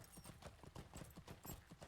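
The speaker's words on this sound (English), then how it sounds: "I think we're going to get on our horse to go back." A horse's hooves clip-clop at a steady trot while riding in the online game The Lord of the Rings Online, even rhythmic beats close by and fairly soft, with no talking.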